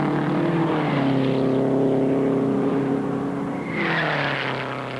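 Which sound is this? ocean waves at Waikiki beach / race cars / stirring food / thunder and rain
race cars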